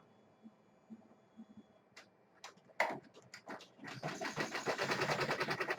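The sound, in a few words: Avance 1501C embroidery machine sewing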